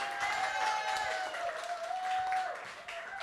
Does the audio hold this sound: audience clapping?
yes